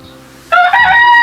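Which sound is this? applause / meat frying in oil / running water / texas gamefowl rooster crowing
texas gamefowl rooster crowing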